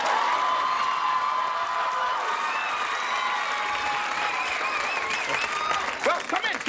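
A sitcom studio audience applauds and cheers as Sherman Hemsley makes his entrance in the series Amen; loud, sustained clapping with whoops and shouts, swelling near the end.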